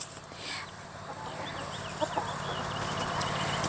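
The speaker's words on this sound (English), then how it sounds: "I have 4 roosters right now, and so I have a lot of fertile eggs coming." Backyard flock with four roosters and hens, steady clucking and crowing close by, continuous farmyard chatter outdoors with no talk.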